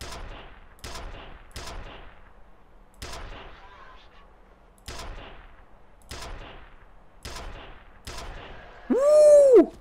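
Heavy single shots from the F.E.A.R. stake gun fire in a slow, irregular sequence of about eight sharp, loud blasts with quiet gaps between them, ending in a brief ringing metallic whine.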